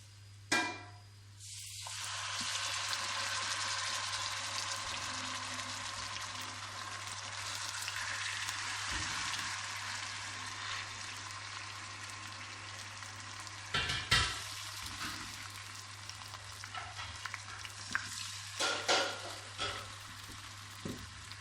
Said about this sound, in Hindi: लहसुन फ्राई हो चुका है। अब इसके अंदर हम चिकन की जो पीस है हम इसमें अंदर डाल लेते हैं।